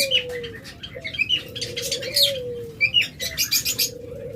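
Caged lovebirds, budgerigars and Java sparrows for sale chirp and tweet in quick overlapping bursts, with a few coo-like whistles and wing flutters, close and loud with no talk.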